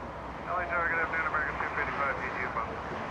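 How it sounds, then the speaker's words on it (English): An American Airlines Airbus A321 takes off from Los Angeles International Airport, a broad, steady jet engine roar heard from a distance with fluctuating tonal whine. "American 2885 lifting off. Flying to Dallas, Texas, A321."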